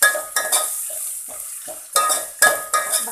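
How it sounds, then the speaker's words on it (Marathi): Finely chopped onions and bay leaves fry in a pan for a spicy Khandeshi chicken curry, sharp bursts of sizzling and stirring rising and falling close by. "2 ते 3 तमालपत्र टाकून घेतले आपण, आणि हे छोटे छोटे 2 कांदे बारीक चिरून घेतलेले।"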